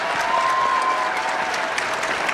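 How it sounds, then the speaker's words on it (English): Audience applause for teachers at a scholarship award assembly, a steady, dense wash of clapping from a large crowd that holds at an even loudness throughout. "So let's please give them a round of applause."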